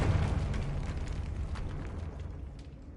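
A spell explosion from the video game Hogwarts Legacy bursts with a broad, noisy boom that rumbles and slowly fades over a few seconds, moderately loud with no voices.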